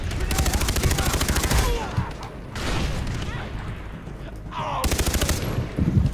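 Rapid automatic gunfire bursts in the video game Far Cry 3, loud and close, with short pauses between volleys and a few booms; no clear talk over the shooting.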